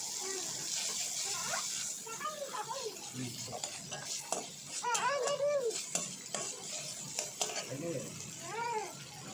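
Turmeric powder frying in hot oil in a pan for a spicy Bengali fish curry with Falui fish, a steady bright sizzle with spatula stirring scrapes throughout, while someone talks intermittently over it.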